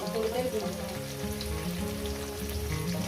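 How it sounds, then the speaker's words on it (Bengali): Sliced potatoes fry in hot oil in a pan for a vegetarian paneer posto dish, a dense, even crackling sizzle heard up close, with a faint voice underneath. "একটা আলু কেটে নিলাম দিয়ে এটাকে আমি ভেজে নেব"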